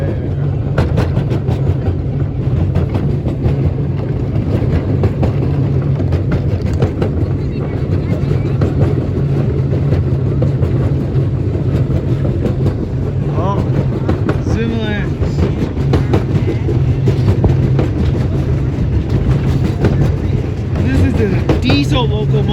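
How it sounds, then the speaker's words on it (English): A diesel locomotive runs along the track at the McCormick-Stillman Railroad Park, a steady low rumble and engine drone holding for the whole stretch with faint rattles and wind over it. "Diesel locomotive running on weekdays."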